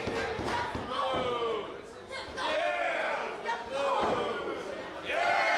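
A wrestling arena crowd roars and cheers in waves, loud and dense, with commentators talking over it and thuds from the ring.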